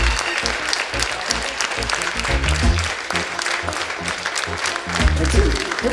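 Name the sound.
audience applause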